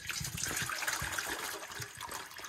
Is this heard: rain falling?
no